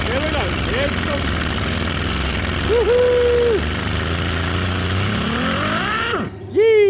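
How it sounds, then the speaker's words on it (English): A workshop air compressor on a custom Harley-Davidson chopper build runs as a loud, steady mechanical drone under excited talk, then cuts off abruptly near the end. "compressor's kicked in"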